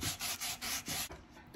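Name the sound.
sanding chippy painted candlestick with 220 grit sandpaper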